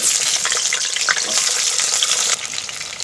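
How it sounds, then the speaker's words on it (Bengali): Potatoes hit hot oil in a pan while cooking Bengali sukto, making a dense, loud, steady sizzle that dips slightly near the end. "প্রথমে আমি কিন্তু আলুটা একটু ভেজে নেব"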